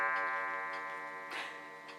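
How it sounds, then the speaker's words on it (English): A clock ticks steadily indoors, faint regular clicks over a sustained tonal hum, with one brief louder rustle partway through. "It might be a clock ticking"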